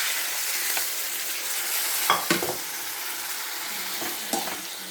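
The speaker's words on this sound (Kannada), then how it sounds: "ಈಗ ಒಗ್ಗರಣೆಯಲ್ಲಿ ತೊಂಡೆಕಾಯಿ ಹಾಕಿ ನಾನು ರೆಡಿ ಮಾಡಿದ್ದೇನೆ" Ivy gourd sizzles and fries in hot tempering oil, a steady crackling hiss broken by a few louder scraping stirs of the pan, with no voices.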